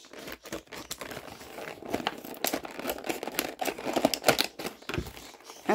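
Scissors cutting open a hard toy package for a Jurassic World Heroes of Goo Jit Zu Pyroraptor, with close, irregular crinkling, snipping and crunching of plastic and cardboard, no talk.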